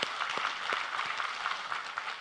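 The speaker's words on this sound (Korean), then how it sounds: "우리 하나님께 감사와 영광의 박수를 드리겠습니다." A church congregation during a Korean worship service offers a brief round of distant, fairly soft clapping, steady and reverberant across a couple of seconds.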